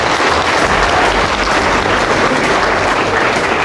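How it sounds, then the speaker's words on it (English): Loud, close applause from an audience during a motivational talk, a thick and unbroken patter of many hands clapping for nearly four seconds. "Yeah, you can clap on that."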